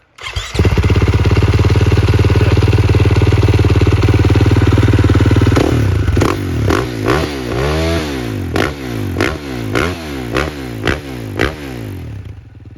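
A 2021 Husqvarna FC 450 motocross bike engine runs loud and steady at idle, then is revved in a series of sharp throttle blips, each one rising and falling, close by.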